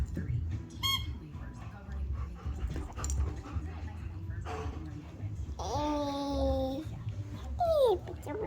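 A dog near a baby whimpers and squeaks in several high, wavering whines, the longest stretched cries coming near the end, over steady background murmur and a voice.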